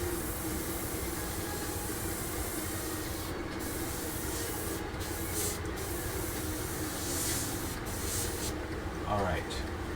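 An airbrush spray gun spraying paint on a 1/48 Zvezda Su-57 model hisses steadily and sputters in brief bursts, close and fairly quiet.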